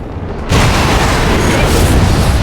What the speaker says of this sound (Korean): 핵미사일 발사 준비 완료